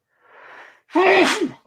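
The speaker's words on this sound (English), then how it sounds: "I'm gonna sneeze." A single sneeze: a soft breathy intake followed by a sharp, loud voiced burst, close to the microphone.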